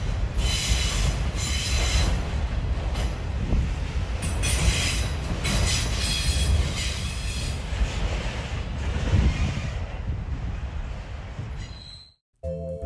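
A passing train grinds along the rails with loud, sustained wheel squeal and a dense metallic roar, holding steady at close range for about twelve seconds before cutting off abruptly.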